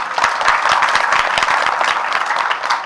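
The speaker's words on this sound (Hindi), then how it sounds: "ताली मार दो भाई" An audience at a spiritual gathering claps on request, a dense burst of hand clapping with sharp individual claps standing out, close and loud for the whole stretch.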